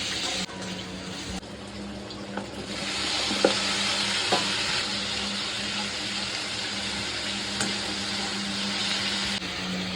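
Plain okra (bhindi) sabzi frying in a pan, with a continuous sizzle broken by a few clinks of stirring and some watery sounds.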